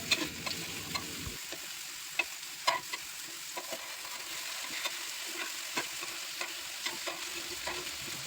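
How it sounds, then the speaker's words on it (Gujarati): Potato pieces for aloo fry sizzle in a pan, a soft steady crackle with scattered small pops close by after a brief stir at the start, no voices. "એક બાજુ ફ્રાય થઈ જાય એટલે આપણે બીજી બાજુ ફ્રાય કરી લેવાની છે"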